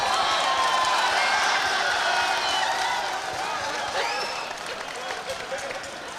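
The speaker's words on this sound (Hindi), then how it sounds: "एक बार ताली बजाएं" An audience claps at a live comedy show, a broad wash of applause that starts full and gradually thins and fades, with crowd noise mixed in.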